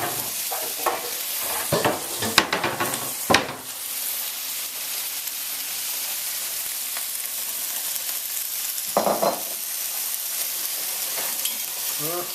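Liver and onions frying in a pan at home, a continuous loud sizzle with a few scraping stirs and utensil knocks early on and again near the end.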